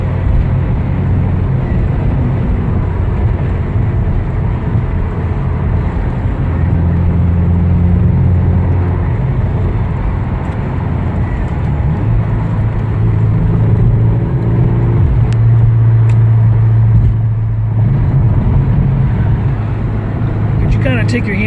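A 1986 Porsche 944 Turbo cruises steadily down a road, its engine and road noise a continuous, even drone from inside the car, with a low steady hum throughout and talking over it.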